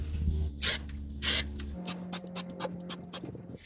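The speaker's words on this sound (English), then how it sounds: "So I sprayed it with one coat, then let it dry and came back and hit it with another coat." Rubberized undercoating is sprayed onto a truck frame in two short, hissing aerosol bursts, followed by a series of soft clicking and rattling handling sounds.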